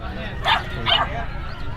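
A large dog at a market gives two sharp, close barks about half a second apart, over background chatter and crowd noise.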